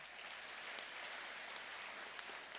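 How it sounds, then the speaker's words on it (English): An audience applauds presenters at a talk on quantum computing, a faint, dense, even patter of many hands clapping at a distance, continuous for the whole stretch. "let's give them a big round of applause"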